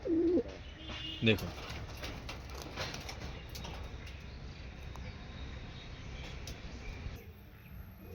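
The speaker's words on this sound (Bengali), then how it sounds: "আরেকটা পায়রা নিয়ে চলে এসেছি, দেখুন স্টার কালাঙ্কা, এটা নর পায়রা" A male Star Kalanka pigeon coos softly in a soft, low rumble near the start, with faint chirps and insect-like hiss in the background and a brief spoken word over it.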